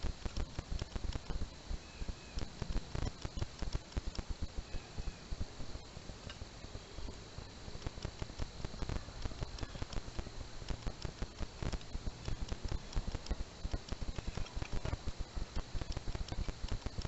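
Rain falls steadily in wet woods during a campfire practice, a dense close patter that runs continuously with no talk.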